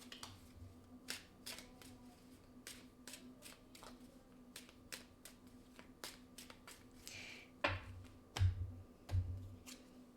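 Playing cards are shuffled and drawn at close range with crisp riffles and flicks. The snaps come in irregular bursts, with a few soft thuds on the table toward the end and no talk.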